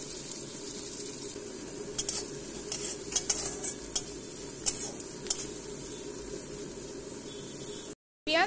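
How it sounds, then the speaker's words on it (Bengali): Chopped onion frying in white oil with a little ghee in a wok, a steady low sizzle under repeated sharp clinks and scrapes of a spatula stirring against the pan, no voices. "কড়াইতে সাদা তেল দিতে হবে এবং সামান্য ঘি দিয়ে দিলাম। এবার এতে পেঁয়াজ কুচি দিয়ে দিতে হবে।"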